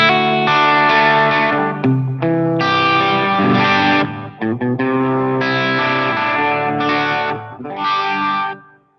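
Electric guitar played through a Line 6 Helix with reverb, loud sustained chords and short phrases with a wet, spacious tail and a slightly driven, chorused tone, trailing off into the reverb at the end.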